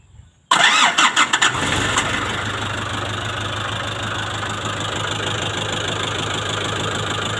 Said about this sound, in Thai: เดี๋ยวสาธิตติดเครื่องให้ดูครับ